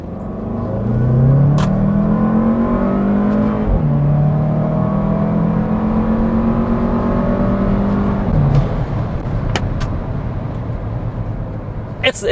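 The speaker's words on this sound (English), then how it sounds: "The engine sounds amazing. I don't have my my sound actor on, so you hear a lot more of the engine." Car engine fitted with a LEYO Motorsport cold air intake pulls hard in second gear from around 3,000 RPM, a loud, close, steady rising drone broken by a brief dip mid-pull before climbing again.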